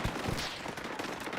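Sniper shots and gunfire in the online shooter Battlefield 2042, with several sharp reports cracking in quick succession over continuous battle noise.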